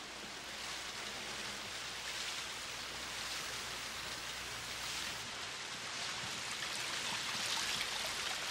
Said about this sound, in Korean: 비가 오는구나